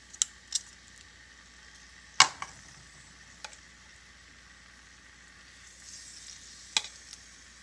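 Small pieces of salmon fry in a little olive oil in a pot, a soft, steady sizzle broken by a few sharp pops and clicks.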